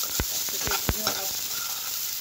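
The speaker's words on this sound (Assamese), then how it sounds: "এটা ভাত যোৱালৈকে ভাজিব লাগে" Ginger and spices sizzle and hiss steadily in a hot pan, with a few sharp scraping stirs early on over the constant frying noise.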